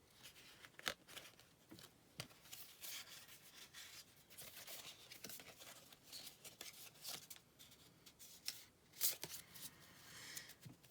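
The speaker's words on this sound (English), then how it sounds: "I'm trying to get my cards sorted out here." Tarot cards being shuffled and sorted by hand give faint, close rustling and rubbing with soft flicks and scattered sharper snaps, quiet and irregular, with no talking.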